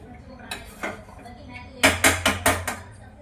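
Roasted gram flour mixed with sugar syrup in a pan for a sweet, heard as a few scraping stirs followed by four or five loud, close clanks of a metal spoon against the pan, no talk.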